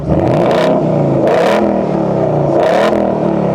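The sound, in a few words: Ford Mustang V8 engine revving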